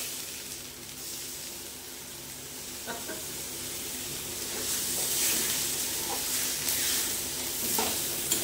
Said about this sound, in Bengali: এইবারে এই চালটা দিয়ে কষে নেব।